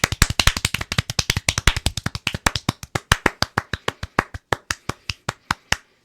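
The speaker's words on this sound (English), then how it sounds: "You are too good at the clapping" Hand clapping, a long run of sharp, crisp claps close by, fast and steady at first and then spacing out into slower, uneven claps, with no talking over them.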